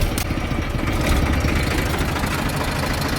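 A tractor's heavy diesel engine runs loud and close, a steady low rumbling chug that continues throughout without voices.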